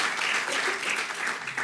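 An audience claps for moderator Marcin at a conference event, with steady, dense applause filling the room throughout and no pauses.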